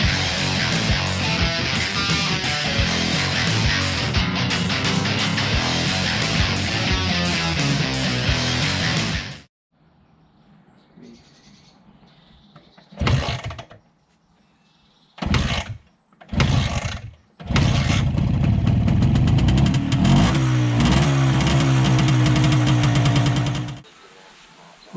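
An MZ TS125 motorcycle, just back from a carburettor service, gives several short cranking bursts, then its engine catches and runs loudly for several seconds before cutting out, following an earlier stretch of loud mechanical noise.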